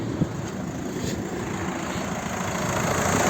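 A 2010 VW Touran 2.0 TDI engine, warmed to 90 degrees, idles steadily with a low, even diesel rumble and faint knocking vibration, no voices over it.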